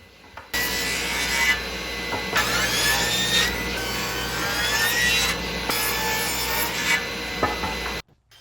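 Saw ripping 2x2 wooden strips lengthwise for a backyard trellis, a continuous loud cutting whine with a few brief pauses in feed, starting abruptly after a half second and stopping sharply near the end.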